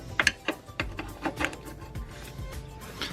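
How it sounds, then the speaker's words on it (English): Ratchet tightening the subframe bolts on a Subaru Crosstrek being lifted, a close series of sharp clicking ratchet strokes in irregular bursts with metallic ticks between them. "Then you can go ahead and tighten this subframe bolt back up."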